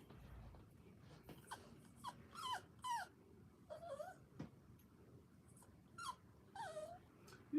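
A dog whines to be let outside where children are playing, giving a series of high, rising whimpers and moans in uneven bursts, fairly soft and close, with no talking.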